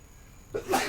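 A single sharp sneeze bursts out near the end after a stretch of quiet room tone during a casual podcast conversation.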